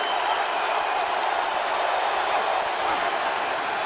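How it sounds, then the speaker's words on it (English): Stadium crowd roar at an Atlanta Falcons home game against the Tampa Bay Buccaneers, a dense, steady wash of distant voices and noise with no distinct cheers or claps standing out. "Crowd noise certainly a factor."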